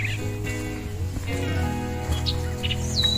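Birds call and chirp along a mountain trail on Mount Slamet, Indonesia, with short tweets scattered over a steady wash of wind and outdoor noise.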